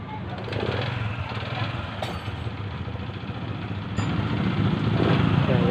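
A Honda XRM 125 Fi motorcycle engine, just repaired after misfiring, idles steadily up close, with a short rev partway through and a stronger, louder run toward the end.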